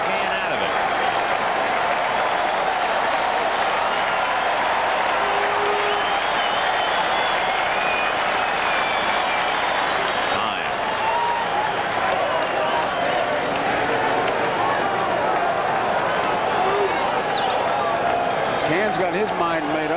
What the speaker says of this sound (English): Crowd really alive now